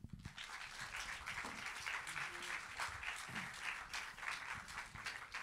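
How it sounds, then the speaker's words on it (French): A studio audience applauds steadily to welcome author Marc Levy onto a French television set, a dense, sustained patter of many hands at moderate loudness with no voices over it. "accueillir avec vos applaudissements Monsieur Marc Lévy"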